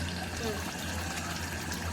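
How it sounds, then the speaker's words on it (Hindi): Water poured into a pan of frying goat mutton gravy, a steady rushing hiss and sizzle filling the whole moment under constant kitchen noise, with a voice talking over it. "फिर डालते हैं इसमें पानी।"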